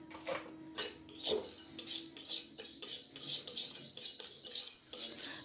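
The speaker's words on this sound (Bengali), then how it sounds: "এখন আমরা সর্ষেটা ভেজে নেব" Mustard seeds dry-roasting in a pan for a green chili pickle give off scattered light crackles and faint scraping, with several louder metal clinks of the spoon against the pan; no one talks.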